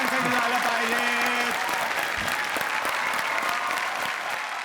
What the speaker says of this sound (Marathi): पण अशा महान नटासाठी एकदा आपण स्टँडिंग ओवेशन देऊया. जोरदार टाळ्या विक्रम गोखले काकांसाठी झालं पाहिजे.